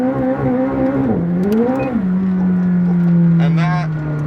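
A McLaren 765LT's engine in rolling burnout mode, heard from inside the car, holds a loud sustained drone that rises, dips and settles into a steady high idle-like roar, with a brief voice over it.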